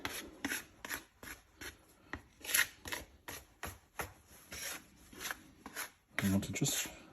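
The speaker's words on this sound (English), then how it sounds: "I want to just fold it over with this plastic scraper to make the dough" A plastic scraper folds and scrapes hot cross bun dough in a series of rhythmic rasping strokes, close and fairly quiet, repeating roughly twice a second.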